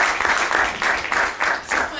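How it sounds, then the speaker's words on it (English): An audience at the 2012 Diaspora Business Launch at the Jamaica High Commission claps together in brief, rhythmic waves of applause that swell and dip several times in quick succession. "we really think that CEN UK deserves a round of applause for that"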